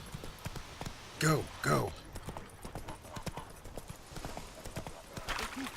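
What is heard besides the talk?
horse hooves clip-clopping in video game Witcher 3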